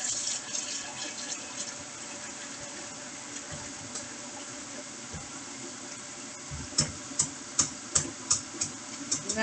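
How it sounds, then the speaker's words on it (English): Water runs from a kitchen tap as a mixing bowl is rinsed in a sink during home baking, a steady close hiss and splash that ends with a run of sharp clinks and knocks of the bowl. "Rinse that bowl out."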